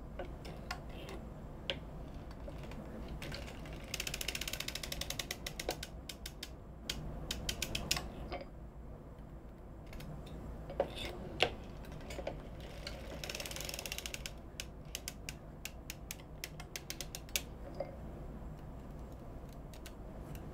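A circular sock knitting machine is cranked while knitting hand-painted sock yarn, producing steady fine mechanical ticking and clattering with a few louder whirring passes, fairly quiet and close, with no talk.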